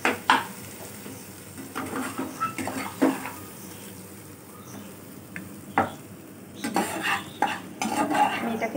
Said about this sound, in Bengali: আমি এটাকে একটা প্লেটে ঢেলে নেব।